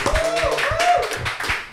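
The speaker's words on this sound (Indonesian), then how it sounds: "Tepuk tangan kek, buset." A small group claps for the host in a casual indoor show setting, a handful of sparse, uneven claps mixed with chatter and a speaking voice.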